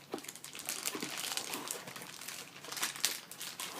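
Plastic toy packaging for an Angry Birds Transformer crinkles and rustles up close as twist ties are worked loose, a quiet continuous stream of small crackles and crumpling bursts.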